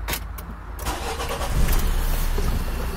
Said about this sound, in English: Now the engine is started.